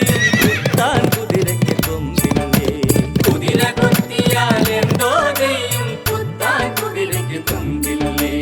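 Steady clip-clop of hooves with a horse neighing over it, loud and close, set against music or rhythmic sound throughout, in a children's cartoon nursery rhyme.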